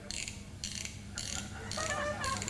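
A wristwatch crown is wound by hand, giving about five short bursts of ratcheting clicks at an even pace, close and fairly quiet.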